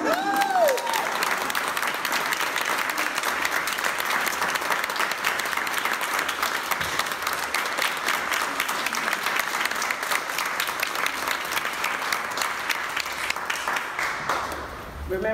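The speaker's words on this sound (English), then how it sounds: "Remember that you applauded that" An audience at a contemporary artist talk by an artist breaks into sustained, dense applause, loud and steady for about fifteen seconds before tapering off at the end.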